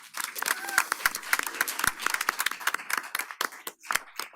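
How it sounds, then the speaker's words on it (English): An audience at a Boulder County community electrification event applauds a speaker in a steady burst of clapping that fades toward the end. "Can we get a round of applause for Will?"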